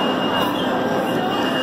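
Loud, steady rumble and rattle from inside a Boston Green Line subway train as it pulls out of Haymarket toward Park Street, a continuous roar that fills the whole stretch.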